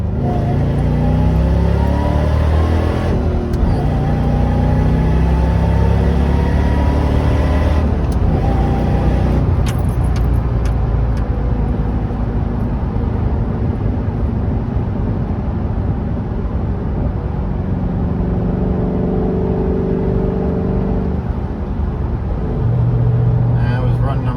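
A supercharged five-speed Ford Crown Victoria accelerates hard in second gear on a rolling run, its engine roaring loudly with rising pitch throughout, a brief shift partway through, and a voice talking over it.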